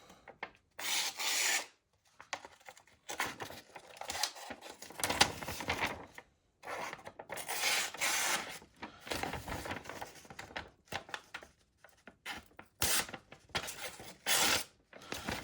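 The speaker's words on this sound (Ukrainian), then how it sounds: "Ну, ріже, ріже, нормально ріже бумагу" The blade of a Ganzo G202 multitool slices through paper in several short rasping strokes separated by brief pauses, close and fairly quiet, with no talking.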